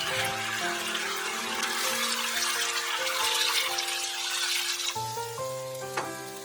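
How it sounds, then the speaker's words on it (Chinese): Chili bean paste stir-fried with soy sauce and oyster sauce for braised beef sizzles steadily in the pan, a dense hiss running the whole time beneath background music. "再加入辣豆瓣酱炒出红油， 接着加入酱油、蚝油，炒出酱香味后"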